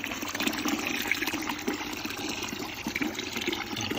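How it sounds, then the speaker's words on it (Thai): Water gushes into a can while a fermented termite-nest microbial mix with rice bran and rice noodles is being prepared. The pour is steady, close and fairly loud for the whole stretch, with no talk. "เพิ่มน้ำลงไปนะครับนี่ก็จะใส่น้ำลงไป สักประมาณ ค่อนกระป๋องนะครับ"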